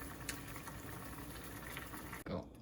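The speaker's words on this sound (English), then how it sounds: "we also like to boil our bean sprouts" Bean sprouts in a pot of boiling water, a soft steady bubbling and rolling close by, broken near the end by a brief splashing stir.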